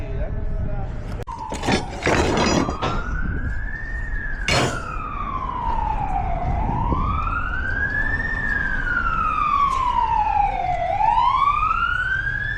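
A wailing emergency vehicle siren rises and falls in long sweeping cycles on a construction site where concrete piers and flatwork forms are being set up, loud and continuous, with sharp clanks and a voice speaking over it.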